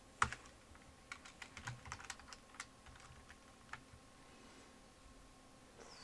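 Someone types code on a computer keyboard in a steady patter of quiet keystrokes with a few sharper clicks, spread over several seconds against a low background hiss, with no talking.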